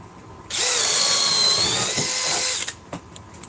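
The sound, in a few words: cordless drill with 8 amp battery pack running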